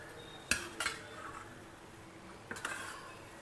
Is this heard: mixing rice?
yes